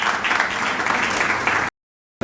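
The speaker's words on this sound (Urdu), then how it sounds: "تالیاں بجاتے ہیں آپ کے لیے اور آپ کی خدمت کے لیے" A Sunday church congregation claps in steady, dense applause as two people are welcomed, then the sound cuts abruptly to silence before briefly resuming.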